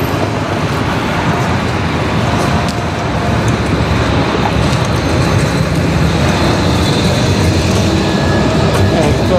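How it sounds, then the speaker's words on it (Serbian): A tram rumbles loudly and steadily at a stop, with dense low mechanical and street noise throughout. "Ovaj nam tramvaj ne paše"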